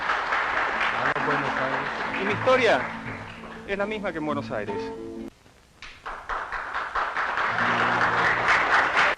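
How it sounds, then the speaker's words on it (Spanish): Audience clapping mixes with music and someone talking at a live show in Jerusalem, a broad, steady patter that swells loudest near the end. "Gran aplauso para ellos."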